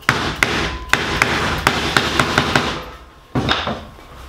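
Hand hammer blows shape sheet-metal ventilation louvers, landing as a close, loud series of sharp strikes about every half second over a reverberant, clattering background, with one heavier thud near the end.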